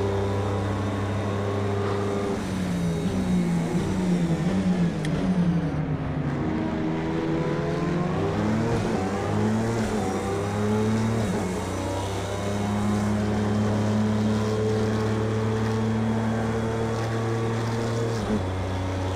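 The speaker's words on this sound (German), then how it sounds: "Ich drehe gerade den fünften Gang immer ein bisschen zu lange." Audi R18 race car at Le Mans in Project CARS 2, its engine revving loud and close throughout, pitch climbing through the gears and dropping sharply at each shift, with no one talking.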